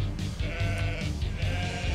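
Sheep ball bleating in the video game Rock of Ages 3, several wavering bleats repeating over a dense, loud game soundscape, with no speech.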